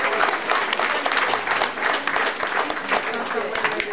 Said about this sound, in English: let's give our actors one more great big round of applause